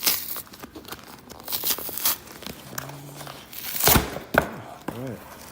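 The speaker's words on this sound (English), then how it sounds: "I actually don't think I need a knife for this. I think I can just rip this open." A glued cardboard shipping package, holding a $20 St. Gaudens Double Eagle coin, is torn open by hand, with close ripping and crinkling bursts and a sharp tearing peak near the end.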